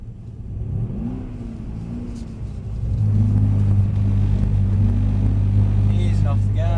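Mercedes C63 AMG engine rising in pitch and volume as it accelerates on a skid pan, a deep steady drone building to a louder sustained roar, heard from inside the car.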